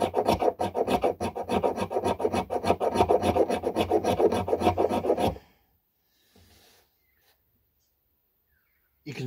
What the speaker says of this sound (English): you can scrape your handle or vice versa.